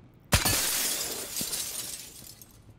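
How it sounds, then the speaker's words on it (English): A window shot out and shattering in the Ghosts of Tabor video game: a sudden loud crash of breaking glass followed by a couple of seconds of tinkling, scattering shards that slowly fade. "I'm gonna shoot the window out upstairs so I can have a better view."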